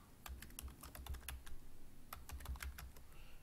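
Someone types code on a computer keyboard, close and quiet, with rapid uneven keystrokes in two bursts separated by a short pause.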